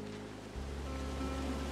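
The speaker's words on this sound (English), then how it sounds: "It's a really nice waterfall down here." A waterfall in the video game Firewatch pours as a continuous, broad rushing roar that thickens after a moment, heard alone without speech.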